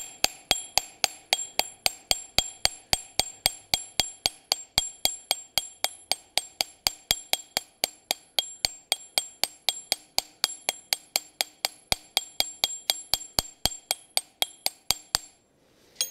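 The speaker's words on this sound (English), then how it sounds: "Now I can go ahead and set that leg with the heavier hammer," Steady, rapid hammer blows ring out on hot iron as a trivet leg is set with a heavier hammer at a forge, dozens of bright metallic strikes in even rhythm, close and alone, ending with a short pause.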